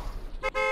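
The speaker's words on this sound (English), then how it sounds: "Don't honk, Swag." Car horn sounded in the Roblox Apocalypse Rising game, a short faint toot rising out of quiet background noise near the end.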